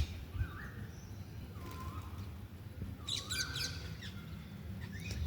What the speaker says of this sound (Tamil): இது வந்து சாம்பல் குருவின்னு சொல்லுவாங்க